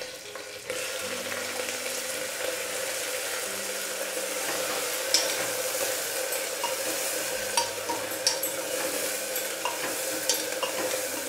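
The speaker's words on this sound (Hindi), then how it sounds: "अब मैं इनको थोड़ी देर भूनती हूँ" Green onions with garlic and green chillies frying in a pan, a loud continuous sizzle and crackle with light stirring scrapes throughout, close and without speech.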